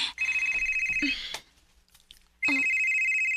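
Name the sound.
telephone ringing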